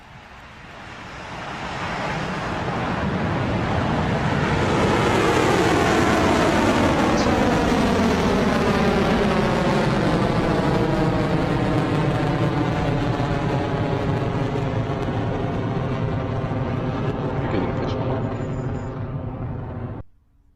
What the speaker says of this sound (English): 9, 8, 7, 6, 5, 4, 3, 2, 1. And we have liftoff.